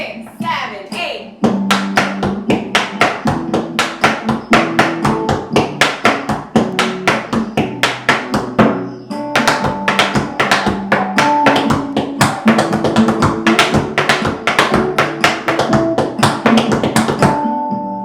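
Tap shoes striking a hard floor in rapid rhythmic patterns of flap heels and other steps, close and crisp, with a brief pause before the tapping resumes to music playing underneath.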